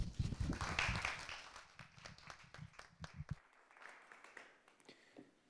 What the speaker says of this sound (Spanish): Así que un breve aplauso.